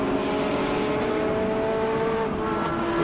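A BMW race car drives a racing circuit at a 2022 MSA Regional Extreme Festival round. Its engine holds a loud, steady, sustained drone at high revs for the full three seconds, with no other sound.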